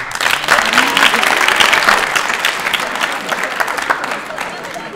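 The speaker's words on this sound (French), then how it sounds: "Je voudrais qu'on applaudisse ce monsieur-ci." An audience applauds in a French literature class or lecture on Racine's Andromaque, with dense, steady clapping that holds strong for about five seconds and then eases off slightly.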